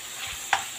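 Pansit toppings sizzle and fry in a pan, a constant close-up crackle broken by one brief clink or scrape of a utensil stirring.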